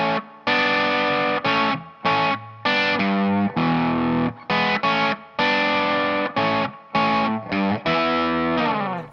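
Played slowly on a distorted electric guitar, a riff comes as a loud, close sequence of chopped power chords and single-note slides, with short silences between the stabs and no speech.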